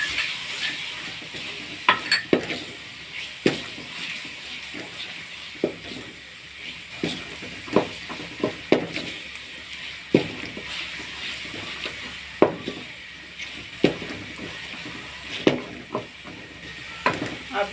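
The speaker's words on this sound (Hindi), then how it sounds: "अब इसमें हम मटर ऐड करेंगे और इसकी थोड़ी सी भुनाई करेंगे" Peas sauté in a pan with a steady sizzle and hiss. A spoon scrapes and taps against the metal at a regular pace while the peas are stirred, all heard close and without talk.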